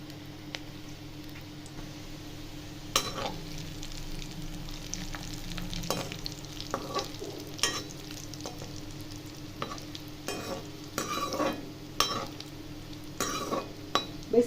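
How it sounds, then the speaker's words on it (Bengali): Semolina and wheat-flour nimki pieces fry in hot white oil over low heat, giving a soft, quiet sizzle broken by scattered clinks and taps of utensils. "এবার এগুলোকে আমি এক এক করে দিয়ে ভেজে নেব"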